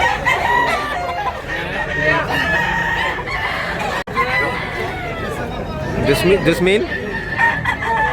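Roosters crow and hens cluck repeatedly at a busy chicken market in Tabunok, Cebu, with market chatter and a murmur of voices underneath throughout.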